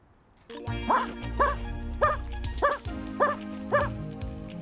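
A cartoon dog barks and yips in a regular series of six sharp, evenly spaced barks over a sustained musical backing, loud and close.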